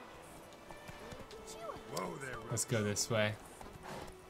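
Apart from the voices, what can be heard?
horse hooves, from video game The Witcher III Wild Hunt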